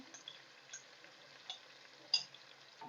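Soft sizzling of garlic, ginger and green chili paste frying in a pan for chicken biryani, with faint scraping and stirring clicks scattered through; quiet and close, no voices.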